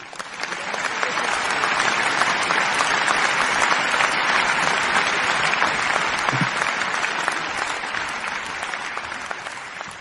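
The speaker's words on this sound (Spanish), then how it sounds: "Brindemos un aplauso a los alumnos de tercero A." Sustained applause from an audience at a preschool graduation ceremony, loud and steady for the full stretch as many hands clap together without pause.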